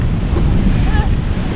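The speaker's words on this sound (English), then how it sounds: "Big white water coming now." Big white water surf crashing around an under-19 surf boat during a New Zealand surf boat race, a loud continuous wash of waves and wind buffeting close to the microphone.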